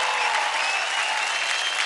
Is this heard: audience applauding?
yes